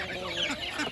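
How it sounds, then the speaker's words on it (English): Young chicks born in December cluck and peep steadily and close by, a busy continuous chorus of small fowl during the morning chores. "These are my chicks that were born in December"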